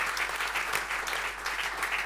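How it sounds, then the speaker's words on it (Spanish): An audience at a literature and football event about Athletic Club applauds with steady, dense clapping that fills the room throughout. "Un aplauso para Laura también."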